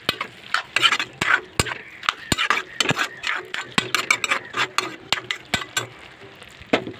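Bottle gourd cooked with cumin and Kashmiri chilli powder being stirred in a pan, sharp repeated spoon clinks and scrapes over a low background sizzle.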